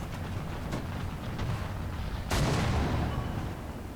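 A British 3 Inch Gun Carrier tank destroyer fires its main gun in War Thunder, one heavy, loud boom over a constant rumbling engine and battle din, with no talking.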